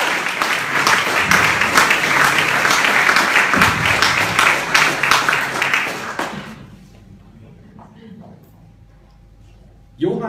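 Live audience at the Vitamin B event in Berlin, 2016, applauding to welcome speaker Norman Gräter: loud, dense clapping for about six seconds that fades out, followed by near silence.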